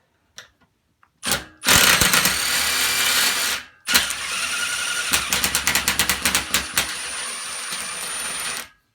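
Milwaukee 3/8 inch Fuel cordless impact wrench working an over-torqued nut, loud and close, with a short burst, a brief pause, then a long rattling run of rapid hammering impacts before stopping.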